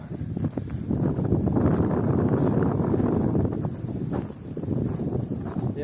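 Strong wind gusting along a lakeshore, a loud roaring buffet against the microphone that swells and dips over several seconds, with no voices.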